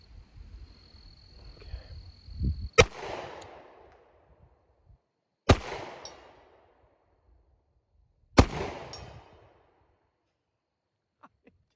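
Three sharp reports from a Rock Island stainless 1911 .45 pistol fired outdoors at a range, spaced a few seconds apart, each a crisp crack with a short echoing tail, and quiet in between.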